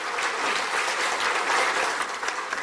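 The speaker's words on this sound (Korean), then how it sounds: "그럼 박수 한번 쳐주세요." Crowd at a talk concert in a convention center hall in Gwangju claps steadily, a dense wash of many hands kept at an even, moderately loud level throughout with no voice on top.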